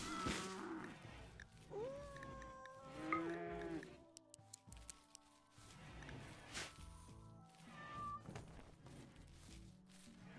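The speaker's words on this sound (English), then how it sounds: "Jesus Christ, that's a lot of cats" Many cats meowing together in the video game Rimworld, a crowd of overlapping, wavering animal cries rising and falling over a steady bed of game background sound.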